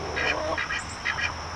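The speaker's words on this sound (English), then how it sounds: "There's the other one of my runner ducks there." Runner ducks and a Pekin duck quacking in a backyard pen, several short nasal calls in uneven bursts, fairly close and moderately loud over a low background rumble.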